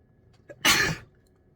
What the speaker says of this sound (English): when I sneeze when I'm channeling